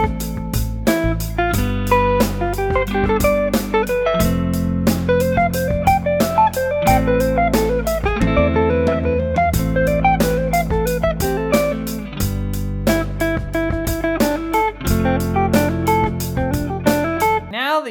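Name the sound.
electric guitar solo played over a backing track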